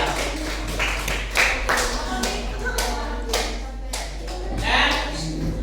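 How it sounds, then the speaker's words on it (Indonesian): A classroom group claps after a student group's presentation, scattered uneven hand claps and taps, fairly close, with voices mixed in beneath. "Silakan dulu tepuk tangan dulu untuk kelompok 2"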